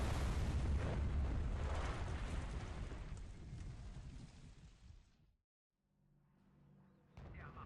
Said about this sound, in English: Tell them to blow those rockets.